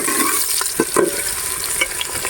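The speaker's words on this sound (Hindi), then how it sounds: "अब शामिल करेंगे प्याज। प्याज को हल्का ब्राउन करेंगे।" Steady sizzling of onions browning in a pan, with occasional stirring clinks and scrapes, close and continuous.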